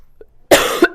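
A single sharp, close cough from a woman with allergies, loud and abrupt, followed by a brief rougher second burst, with no talking.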